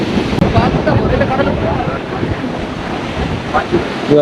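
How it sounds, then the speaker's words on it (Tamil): Ocean waves crash on the shore at a coastal village in Batticaloa, Sri Lanka, with loud continuous surf and wind buffeting the microphone close by. "இது வந்து ஒரு பெருங்கடல் மாதிரி இங்கே எப்படி அடிக்கும் அலையலாம்"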